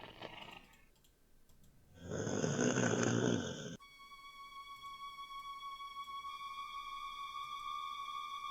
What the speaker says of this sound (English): The huge giant has fallen asleep and is now snoring loudly.